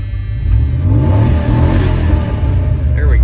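A 1970 Ford Maverick engine, worked on outdoors in the snow, revs hard at full throttle, a loud, close, sustained roar that stays strong throughout with faint background noise.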